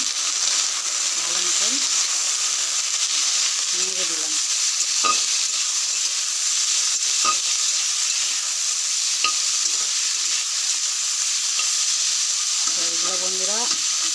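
Vegetables with turmeric fry gently in a pan over a low flame, a steady, close hiss of sizzling oil with occasional stirring clicks and a few brief snatches of voice.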